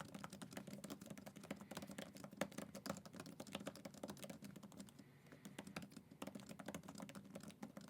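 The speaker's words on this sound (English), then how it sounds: "So let's do a quick typing test." Steady, fast typing on a compact Logitech Combo Touch tablet keyboard case, a continuous patter of light key clicks close by with no voices.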